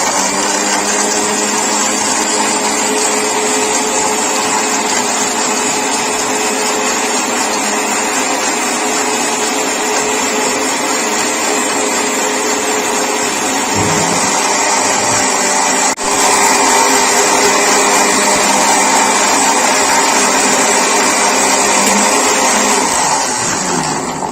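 A blender grinds mint lemonade with ice cubes, a loud continuous motor whir with churning texture that holds steady for the whole stretch, close by and without speech.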